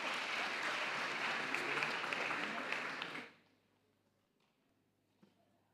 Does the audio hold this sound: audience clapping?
yes